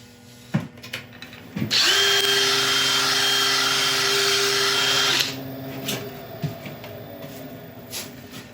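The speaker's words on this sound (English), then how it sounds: "I'll quickly take it back with a very, very high grit Scotch pad" Very high grit Scotch pad pressed against spinning black locust on a wood lathe, giving a steady loud whirring hiss for about three seconds, framed by quieter lathe hum and a few knocks before and after.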